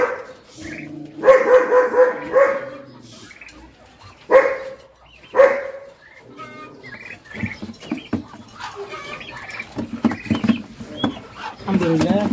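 Dog barking in short, loud bursts during an attack on poultry by a weasel, with scurrying patter, animal squeals and people talking in the background.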